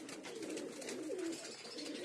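Fantail pigeons in a loft give a soft, low coo at a distance, faint against quiet background noise.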